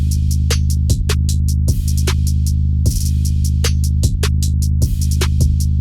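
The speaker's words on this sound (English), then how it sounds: "all the drums with the new 808 sound like this" A loud electronic beat from an FL Studio remake, with a deep, sustained 808 bass underneath and sharp drum hits and hi-hats landing in a steady pattern.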